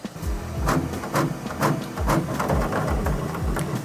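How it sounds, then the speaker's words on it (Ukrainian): A Bambu Lab P2S 3D printer purging during a filament color change gives off rhythmic, whirring stepper-motor sweeps and quick chirps. The bursts repeat steadily at close range with no talking. "після швидкої очистки, принтер продруковує кілька ліній на очисній вежі для того, щоб остаточно змінити колір"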